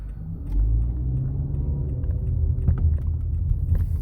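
A 2015 Nissan Altima S engine runs in overdrive mode, heard from inside the car as a steady low rumble with small surges and a few faint clicks.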